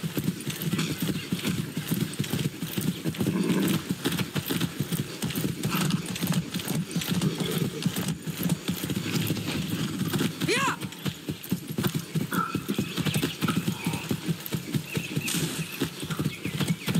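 Horse hooves clip-clopping in the Far Cry 6 video game, a rapid steady trotting rhythm that runs continuously, close and prominent.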